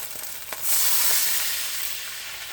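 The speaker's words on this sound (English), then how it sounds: "And now I'm going to add my vegetable stock." Vegetable stock hits a hot pan with a sudden loud hiss that swells into a steady, bright sizzle and slowly fades, preceded by a few faint clinks.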